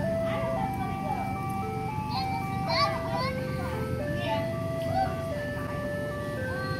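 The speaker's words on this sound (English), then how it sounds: "Taco, look, it's Ice Cream Man." An ice cream truck's melody plays steadily as the van drives past, with a voice and excited chatter heard over the tune and traffic noise beneath.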